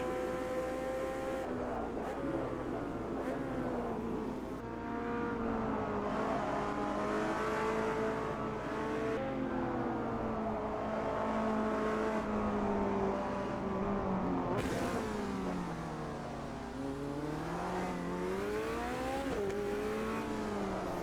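Turbocharged race car engine in Gran Turismo on a Long Beach street circuit, revving up and down through gear changes in long rising and falling sweeps, heard steadily from the cockpit and quite faint, with no voices.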